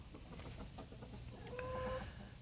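A full-blooded Rhode Island Red rooster and hens cluck faintly around a backyard coop, low murmuring calls with a brief higher squawk midway, quiet and unaccompanied by talk.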